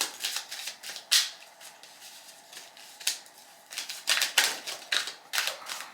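Tarot cards are shuffled and drawn by hand, producing a steady run of crisp, close riffling and flicking sounds with irregular sharp snaps, all without any talk.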